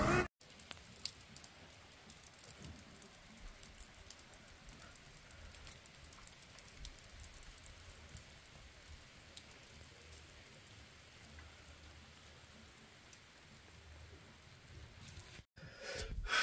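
Steady rain falls across a rural village in the Indian hills during a prolonged downpour, a dense even hiss of drops on surfaces that continues alone from start to finish with no voices.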